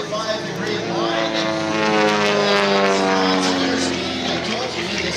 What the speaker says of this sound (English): I told you this airplane is like a fighter jet. It's so fast, so much power.